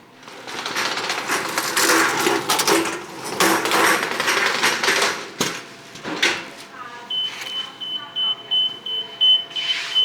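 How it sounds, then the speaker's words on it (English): A 2-minute warning timer for English muffins in an artisan bakery beeps in a steady high repeating pattern late in the clip, after loud clattering and banging from deck oven work, with some talk. "my 2-minute warning timer just went off on the English muffins"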